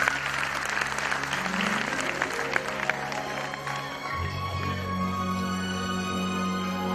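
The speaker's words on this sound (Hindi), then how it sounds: "एक बार जोरदार ताली आप सभी लोगों के लिए।" Steady audience applause from a crowd at a school or community gathering, a dense wash of clapping that holds throughout at even strength, with a faint tonal hum underneath.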